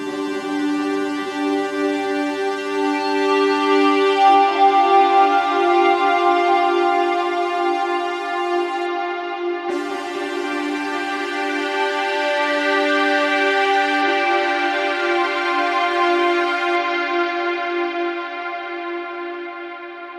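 Strymon StarLab Eurorack reverb processing several sustained synth patches in turn, rich harmonic drones blooming into long reverb tails, with sounds changing every few seconds, steady and fairly loud.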